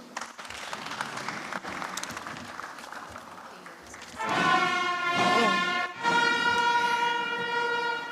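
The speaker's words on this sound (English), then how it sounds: "Another resounding applause for His Excellency." Steady applause from a crowd at a university convocation ceremony fills the clip, joined midway by a loud sustained horn-like tone that sounds twice over the clapping.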